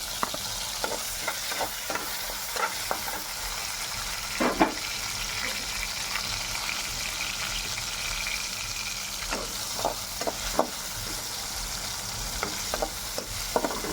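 Brinjal and tomato curry frying in a pan, a steady sizzle running throughout with repeated scraping stirs of a spoon against the pan, close and fairly loud, without speech.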